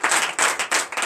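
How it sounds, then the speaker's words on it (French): During a church service, a short, close burst of congregational clapping and acclaim pulses in a few uneven waves before it cuts off. "Donnez de vive acclamation."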